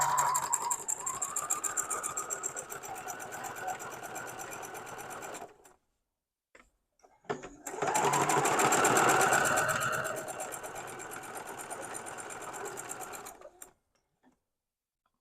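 A sewing machine stitching quilt pieces runs in two loud bursts of rapid mechanical whirring, each several seconds long, separated by a short pause with faint clicks, then stops.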